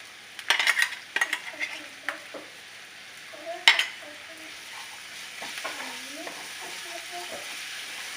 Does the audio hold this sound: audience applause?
no